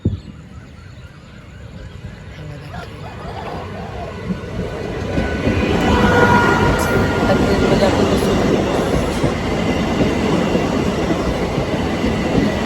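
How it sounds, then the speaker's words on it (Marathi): A Mumbai suburban train rumbles into a station, growing louder over several seconds with rail clatter and a hissing, squealing wash of noise. "तर चला तर आपली ट्रेन आलेली आहे"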